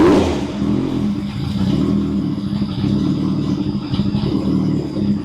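A supercharged Kawasaki ZZR1400 motorcycle engine idles on a dyno while running slightly lean, giving a steady, loud, close rumble that holds evenly throughout with no talk.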